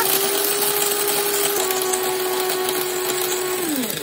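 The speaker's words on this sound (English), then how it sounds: "we're gonna add a quarter cup of peppercorns to our little uh, spice grinder, which is really just an old coffee grinder" An old coffee grinder used as a spice grinder whirs steadily while grinding a quarter cup of peppercorns, a loud continuous motor hum close by that drops in pitch as it winds down at the end.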